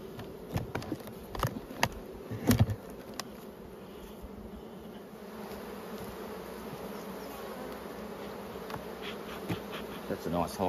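Honey bees buzz around an open, strong double-box hive full of honey during spring hive work in Australia, a steady close drone broken by a few sharp knocks and clicks early on.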